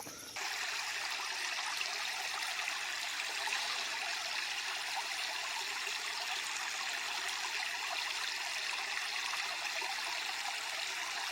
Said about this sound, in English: There's more water.